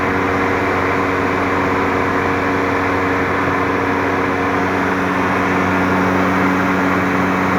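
A Lada Vega engine idles close by with its cooling fan switched on, giving a steady, loud, even hum and whir that holds unchanged throughout, with no talking.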